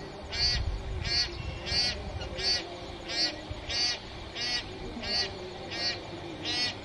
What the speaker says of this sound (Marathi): इथे आज बार हेडेड गुज हे पक्षी मोठ्या प्रमाणात आलेले आहेत